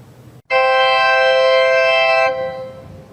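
A church organ sounds a single sustained chord from a stored registration, loud and steady for nearly two seconds before part of it cuts off and a softer tone lingers.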